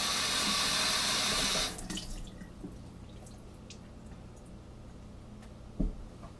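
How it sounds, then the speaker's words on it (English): Running tap water splashes steadily into a sink while a sponge is rinsed, then the faucet shuts off, leaving quiet room tone with a few soft drips and one clunk near the end. "Let me rinse my sponge."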